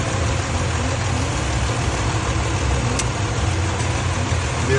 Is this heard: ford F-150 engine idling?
yes